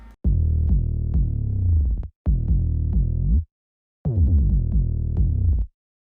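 Deep 808 bass notes with pitch bends and slides in a heavy trap beat, sounding in three loud sustained phrases separated by short gaps, with sharp transient clicks at each note start and no voices.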